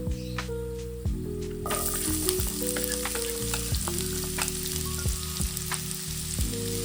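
Onion hits a pan of garlic already frying in oil, sizzling steadily and close with scraping stir strokes and clinks of a spoon against the pan, all without talk.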